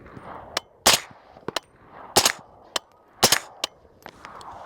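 Suppressed subsonic 7.62x39 rifle fired with Brown Bear ammunition: five sharp, fairly loud reports spaced about a second apart, with a few fainter clicks and knocks between them and no talk.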